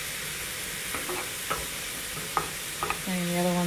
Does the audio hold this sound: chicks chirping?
no